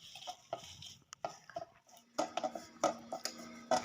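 Dough for date palm jaggery rasgulla is pressed and kneaded by hand in a bowl. Soft squishing comes with irregular light knocks and clatter against the bowl, quiet and close, with no talking.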